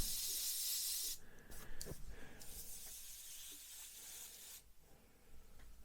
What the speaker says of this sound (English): I've got the airbrush charged up.